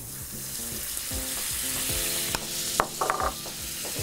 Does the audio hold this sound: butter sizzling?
yes